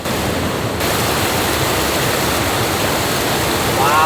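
A waterfall rushes down from an Alpine mountainside in Germany, a loud continuous roar of falling water filling the whole space, steady throughout with no breaks.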